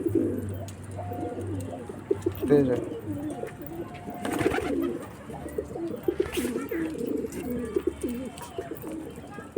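Pigeons coo in repeated low, throaty rolls close by, with soft rustling and an occasional faint voice in the background.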